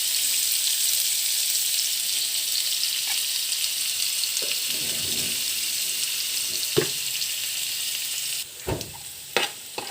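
Vegetables for chicken biryani sauté in ghee with a little salt, giving a steady, loud, close sizzling hiss broken by a few clinks and stirring knocks near the end.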